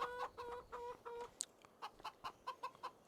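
Chickens in the farming video game Farming Simulator 25 cluck in a quick series of short, bright calls, starting as a steady rhythmic run and then turning into choppier, separate clucks, all at a moderate level with nobody talking.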